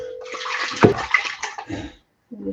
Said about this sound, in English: Just get the water in there to swish it all out.